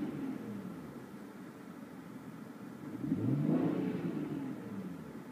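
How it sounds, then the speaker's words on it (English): A car engine revs up and back down once, rising to a louder swell near the middle and easing off again, heard alone with no talk. "Go ahead and rev the engine a few times."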